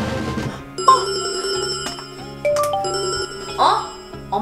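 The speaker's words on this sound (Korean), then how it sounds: "엄마 벨소리인데 어딨니?" A mobile phone ringtone plays a bright, repeating electronic bell melody of chiming tones, loud and close, with people talking over it.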